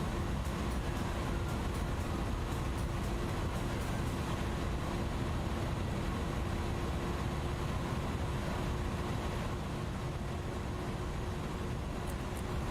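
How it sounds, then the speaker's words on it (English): Jet engines of an Airbus A310 in Microsoft Flight Simulator drone steadily throughout descent, a dense broadband roar with a faint constant tone, loud and unbroken with no talking. "Listen to the engine change."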